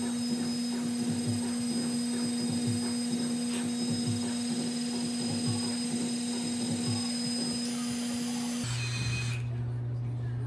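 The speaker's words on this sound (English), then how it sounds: "put in the white compound, spin it up." A spinning polishing wheel loaded with white compound works a two-stroke exhaust pipe, giving a constant motor hum with a steady tone, then the pitch drops near the end as the wheel changes speed.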